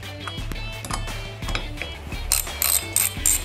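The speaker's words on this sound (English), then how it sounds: "take your half inch deep socket and remove the nut inside of the cap" A ratchet with a half-inch deep socket works the nut off a Nitrous Express nitrous bottle valve cap, giving a close run of quick clicking pawl ratchets in short strokes.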